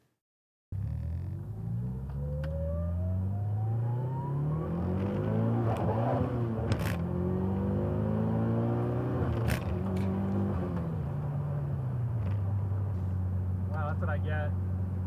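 A car pulling away from a Cars and Coffee meet in Austin, Texas, its engine note climbing steadily as it drives off, loud and continuous, with people talking over it.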